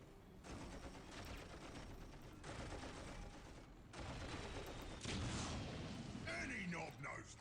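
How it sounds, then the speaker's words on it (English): Sustained rapid machine gun fire from a unit in the Warhammer 40,000 strategy game Dawn of War: Soulstorm, steady dense bursts with short breaks and a louder mixed stretch near the end, with a voice talking over it. "So they can actually use their machine guns too."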